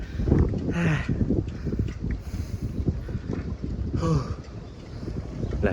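Strong gusting wind in Japan buffets the microphone of a cyclist on the road, a roaring, uneven rush that swells and eases throughout, with bits of a voice breaking through now and then.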